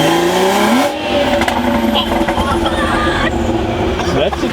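A tuned Stage 2+ BMW 540i pulls hard and loud nearby, its engine note climbing and shifting across a few seconds, with voices talking over it.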